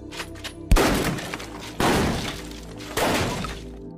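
Three sharp, loud bangs spaced about a second apart, each with a crashing, ringing tail, over a steady low background.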